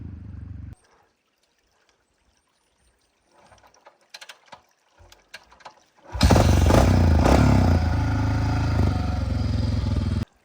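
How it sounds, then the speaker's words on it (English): Honda XR 650 motorcycle, kickstart only, with quiet kicking and clunks before the big single-cylinder engine fires and settles into a loud, steady thumping idle. "Big old XR 650 kickstart only."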